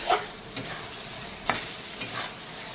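Ridge gourd posto with tomato cooks in a pan, a soft steady sizzle broken by a few sharp stirring scrapes and clinks, close and moderately quiet, with no voices.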